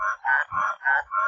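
Frogs calling at a waterhole, with five rhythmic, evenly spaced nasal croaks in quick succession, close and clear against a quiet background.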